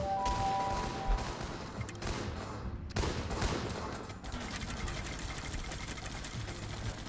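Gunfire in the video game Guns Up: rapid, dense bursts of automatic shots rattle almost continuously, with a sharper volley near the middle and a busy mix of game effects behind.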